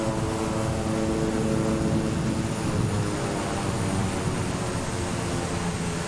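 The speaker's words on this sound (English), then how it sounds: "I can put the engine into reverse thrust" A King Air 350i turboprop engine running in reverse thrust in Microsoft Flight Simulator, a steady, loud propeller drone with constant pitch throughout, heard with no talk.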